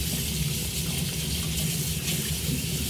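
Hot water runs from a tap to rinse a makeup brush, a steady, unbroken rush of water with a low rumble underneath, close by and with no voices.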